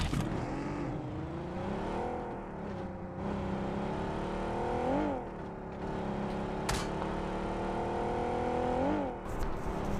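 Vehicle driving in the Battlegrounds Mobile India game, a steady engine drone with rising and falling revs as it steers and accelerates, close and continuous, with faint voice chat underneath.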